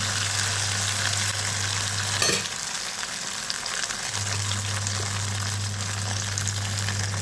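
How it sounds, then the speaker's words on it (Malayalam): Jackfruit pieces fry in hot oil with a loud, continuous close sizzle and a steady low hum. Around the two-second mark a brief splash-like disturbance is followed by a quieter stretch before the full sizzle returns. "ചക്കട അങ്ങനെ പൊരിഞ്ഞിങ്ങനെ വരികയാണ്"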